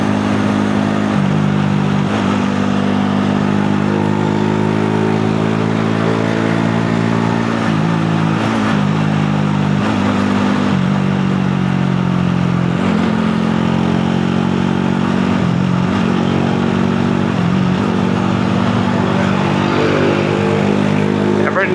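A motorcycle fitted with a new airbox runs continuously on a ride, its engine droning loud and close with small shifts in pitch as the throttle changes, under steady wind noise.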